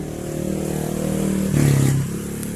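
The engine of a Suzuki Spin scooter, started with its starter motor, runs in a close, steady idle with a brief rev in the middle, then settles back.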